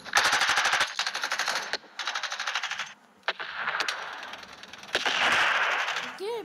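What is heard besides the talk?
machine gun firing in video game Urban Heat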